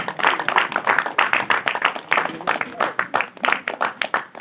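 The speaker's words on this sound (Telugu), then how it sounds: "చప్పట్లు కొడదామా?" At a church Christmas gathering, an audience claps together in a brisk, uneven rhythm of sharp hand strikes, close and lively, for over four seconds without any speech.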